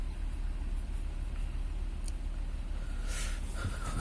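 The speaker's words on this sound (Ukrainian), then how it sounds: "Ось так вона тримає холостий хід." A warm Mercedes W124 M103 2.6 engine holds a steady, even idle up close, a continuous low rumble with no voices.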